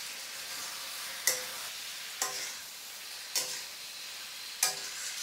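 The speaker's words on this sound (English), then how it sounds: "I'm going to get my jackfruit pieces, we're going to tip those in there. We're going to fold them in." Jackfruit pieces being folded into a hot pan of a colourful dish: a soft, continuous sizzle underneath four sharp, evenly spaced scrapes or knocks of the utensil against the pan, with no one speaking.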